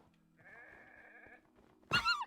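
Goats in the video game Minecraft: a faint, drawn-out bleat is followed by a sharper, louder bleat near the end, over quiet background hum.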